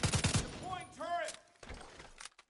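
A deployable turret fires in the video game The Division 2, a quick rattling burst of shots at the start followed by synthetic tones and scattered effects, with in-game voice lines.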